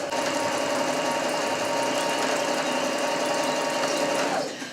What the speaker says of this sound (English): So much easier with a sewing machine.